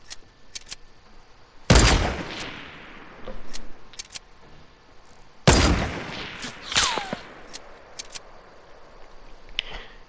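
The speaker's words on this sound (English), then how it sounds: "we're just exchanging sniper shots" Sniper rifle shots are traded in Fortnite: two sharp, loud cracks ring out several seconds apart with lingering tails, scattered among fainter clicks and small game sounds.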